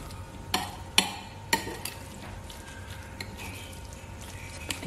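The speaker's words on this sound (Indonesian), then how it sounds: "kita hancurkan tapenya sampai dia lumat secara merata" Fermented cassava (tape) being mashed in a bowl for a sponge cake, giving a few sharp scraping knocks near the start, then softer, sparse stirring and squishing with no talk.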